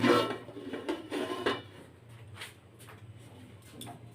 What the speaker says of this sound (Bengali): নোড়াটা সরিয়ে দিব।